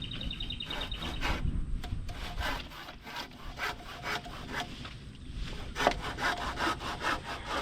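Hand saw rasping through wood in steady back-and-forth strokes, close and fairly loud, with no voices.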